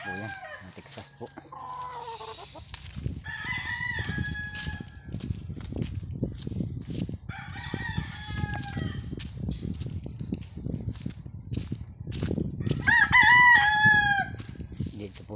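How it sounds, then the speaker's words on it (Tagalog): Texas gamefowl roosters crow loudly near the end, amid a steady farmyard background of clucks and calls at Biak na Bato, San Miguel, Bulacan. "Yan po mga manok po yan, mga Texas po."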